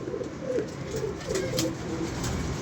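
Pigeons cooing at a pigeon loft, soft repeated low coos with a steady murmur of birds close by, no talk.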